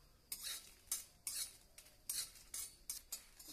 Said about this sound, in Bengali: আমি প্রথমে শুকনো লঙ্কাগুলোকে